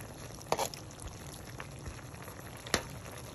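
Squid sautéed in a pan as a home-cooked dinner, simmering in its own liquid with a soft steady bubbling and a couple of sharp clinks, close and fairly quiet.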